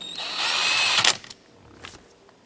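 A power drill drives steering column screws on a 2008-2010 Ford F-450 during an ignition switch replacement: about a second of loud, rising, steady motor whine, then a few short clicks and faint rattles.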